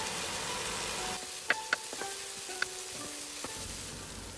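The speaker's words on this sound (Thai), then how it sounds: "ใส่พริกที่เราตำไว้นะคะ ใส่ลงผัดเลยค่ะ" Pounded chilies are stir-fried in olive oil with tilapia and celery in a pan. A steady close sizzle runs throughout, with a few sharp clinks and scrapes of the spatula against the pan.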